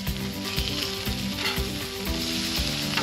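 Pork chops fry loudly on a Blackstone griddle just after being flipped, a dense, constant sizzle with light crackling and some scraping, close and steady with no talking.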